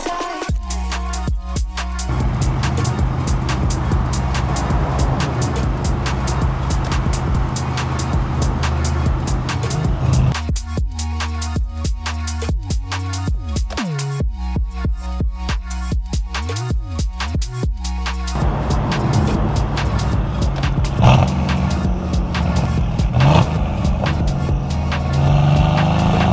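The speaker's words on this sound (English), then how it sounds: "Your car sounds real nice." A car's engine drones steadily from inside as it is driven to a car meet on a cold day, a loud, continuous hum that rises and falls with speed and has a few gaps where it drops back.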